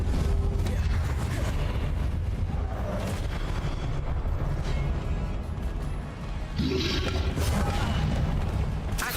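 A Confringo blast spell goes off repeatedly in the game Hogwarts Legacy, heavy booming explosive bursts layered over continuous loud combat rumble, with a brief lull before another strong blast.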